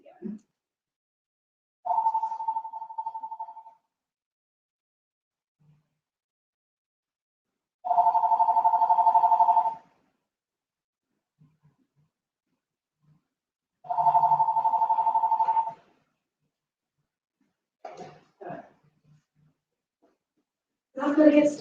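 Phone ringing indoors: a steady electronic ring comes in separate bursts of about two seconds with long silent gaps, moderately loud and close, and brief bits of speech near the end.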